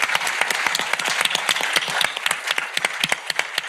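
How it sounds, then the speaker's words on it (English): Steady applause from an audience at a kidney cancer research summit, dense and close throughout, with sharp individual claps standing out as it thins toward the end. "can we give a round of applause to Mr. Brian Lewis and Susan Pichi?"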